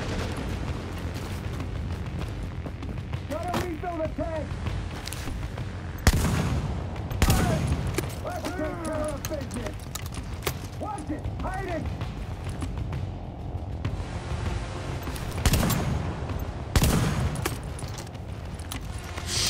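Shotgun blasts in a third-person shooter game, a few loud booming shots spread across a steady bed of game noise, with a player's voice talking over the action.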